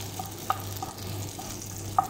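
Garlic sizzles softly in a small amount of butter in a pan for prawn pasta, a low steady crackle broken by a couple of sharp utensil clinks.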